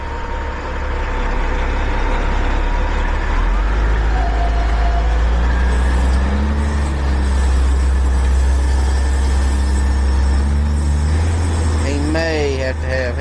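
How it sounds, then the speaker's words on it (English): A Kenworth logging truck idles and then pulls away on a slick road, its heavy low diesel rumble steady and loud, with people talking nearby. "Watch this truck roll out of here."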